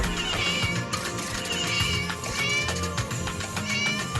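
A cat meows repeatedly in a Turkish classroom setting, several insistent, wailing calls close by over a busy room background.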